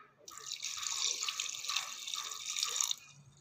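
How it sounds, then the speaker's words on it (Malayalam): Water pours into a pan of papaya curry cooking with chilli powder, turmeric, salt and tomato. It makes a close, steady splashing trickle for about three seconds and then stops. "കുറച്ച് വെള്ളം ഒഴിക്കാം."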